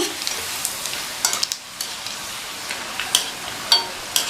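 Rava snacks sizzle in hot oil as they are stirred, a fine crackling hiss broken by sharp scraping clicks and bursts, with no talk.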